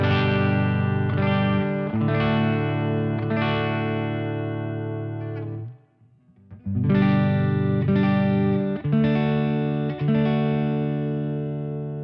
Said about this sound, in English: Fender Reverb Deluxe 68 profile on my Kemper. This is one of the Michael Britt profiles, and this is just the clean sound